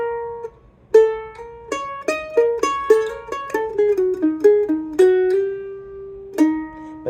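Mandolin playing a bluegrass-style lick that shifts from major to minor and back, with bright picked single notes in a quick, uneven run, ending on a held, tremolo-like note, close and clear with no voices.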